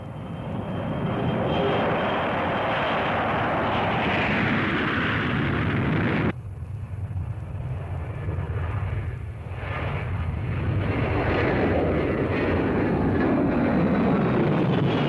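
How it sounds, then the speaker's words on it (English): Strategic Air Command bomber aircraft launch with a loud, sustained roar of jet engines, cut off briefly and then building again into a powerful, continuous rumble with no voices. "and the aircraft launched."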